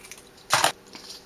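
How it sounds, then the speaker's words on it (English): Scissors snip through paper along a drawn line while making a paper flower, one short crisp cut burst heard up close and alone. "So I got some scissors out here and just cut right along the line here."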